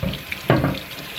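Tap water rinsing cleaned stove parts in a sink, a brief close splash and gush of running water, alone with no talk.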